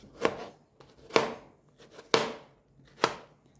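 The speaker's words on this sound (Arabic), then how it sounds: "همسك كل البطاطساية واقطعها صوابع طويلة محملة" A knife cuts peeled potatoes into long fries, landing four sharp, separate chops on a cutting board about a second apart, close and crisp with quiet gaps between them.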